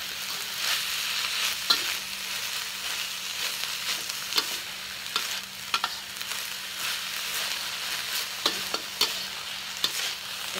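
Onion and belacan shrimp paste sizzle and fry in a pan as a cook stirs, with a steady hiss and occasional scraping clicks of the utensil, close and continuous, no talking.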